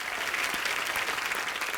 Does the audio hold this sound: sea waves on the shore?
no